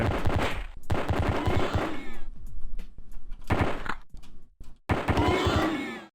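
Gunfire in the video game Pathways Into Darkness rings out in several loud, separate volleys of rapid shots, broken by brief silent gaps.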